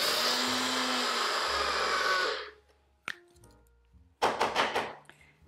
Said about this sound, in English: And it doesn't take much to grind that up. Just a couple seconds, and then you have a nice grainy looking topping.